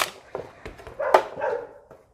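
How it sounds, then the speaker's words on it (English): A neighbouring dog barks a few times at moderate distance, short sharp yelps spread across a couple of seconds, outdoors during a windshield repair with no talking. "It's the neighbor's dog."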